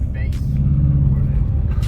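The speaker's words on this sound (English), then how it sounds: "It's a Corvette." A Corvette passes close in street traffic, its engine a loud, steady low rumble that holds through the moment, with brief higher whooshes of passing cars.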